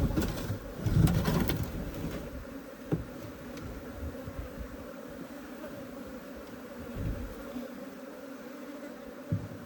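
Honey bees from a hobbyist hive that turned Africanized buzz around it in an apiary, a steady low drone with a louder burst near the start, occasional knocks and a dove cooing faintly nearby.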